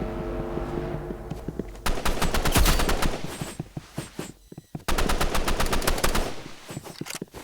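Rapid automatic gunfire in the shooter video game Rivals rattles in loud, dense bursts, with a short pause before another sustained volley near the end, close and without talk.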